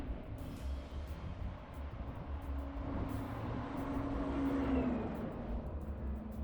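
A lorry rolls past on a forest road in Masuria, its low engine drone swelling and fading under a wash of tyre and wind noise, heard from the roadside.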